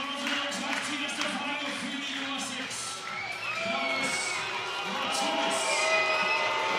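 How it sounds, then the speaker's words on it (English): A basketball crowd jeers and shouts at a player stepping to the free throw line at a FIBA 3x3 World Cup game. The noise is a steady, dense din, with a commentator talking over it. "Matulis hearing the boos already."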